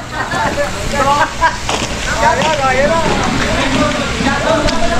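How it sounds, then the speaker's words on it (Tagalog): Heavy rain hisses and patters steadily on a roof throughout, with voices talking over it nearby. "Ulan na ulan."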